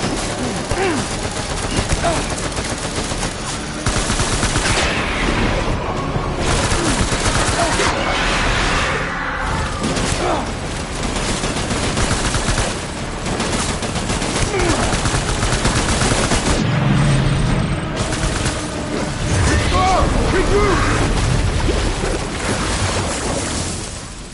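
Sustained rapid gunfire and machine-gun bursts in a PS4 combat video game, loud and dense throughout with scattered shouted voices mixed into the din.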